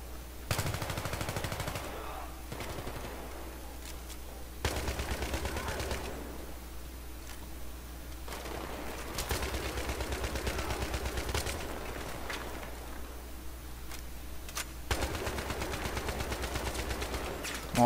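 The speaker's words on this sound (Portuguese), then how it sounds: "Olha o tiro." Battlefield 3 machine gun fire comes in repeated sharp bursts of rapid shots separated by pauses, loud and close over a constant game background hum.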